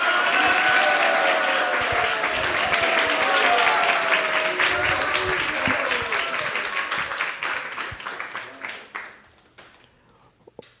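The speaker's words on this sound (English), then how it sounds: "give the devotees a big round of applause" An audience applauds the devotees at a Krishna Katha gathering, dense sustained clapping that holds strong for several seconds and then thins and fades out near the end.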